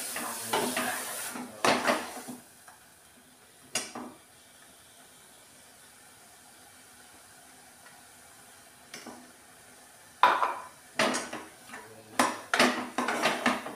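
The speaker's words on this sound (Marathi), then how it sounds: "आता हे मसाला वाटलेला टाकून घेऊया. व्यवस्थित फिरून घेऊया." Ground masala is stirred into mutton in a pan, a spoon scraping and clanking against the metal in short bursts, separated by quiet stretches with faint frying underneath.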